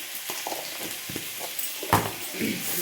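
Masala with Kashmiri red chili powder frying in a pan, heard as a continuous close hiss with soft scraping and clinking stirs scattered throughout, and a louder clatter near the end.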